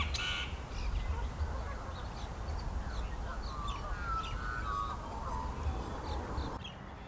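Crows caw several times at a distance over an off-grid homestead garden, the calls faint and scattered above a constant low rumble of wind or outdoor noise.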